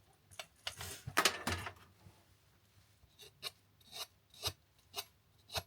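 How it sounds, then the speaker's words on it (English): A knife blade rasps and scrapes against a FaithShield anti-stab high-collar neck guard, giving a dense burst of close, harsh cutting strokes followed by several separate, evenly spaced scraping strokes. "actually cutting essentially going on with a knife, but it's not doing anything"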